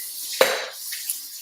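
A short burst of running tap water as something is rinsed in a kitchen sink while cocktails are made, a quick splash and faint clink, fairly quiet, with no talk.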